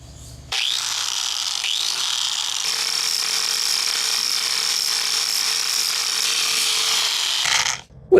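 A handheld sander fitted with a grinding disc runs steadily on a table, giving a loud continuous whine and grinding drone that holds for several seconds before cutting off.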